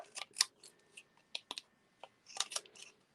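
Scissors snip paper strips for a stamped card-making project, giving sharp isolated clicks in a few quick bursts with short pauses between them, close and fairly quiet with no talking.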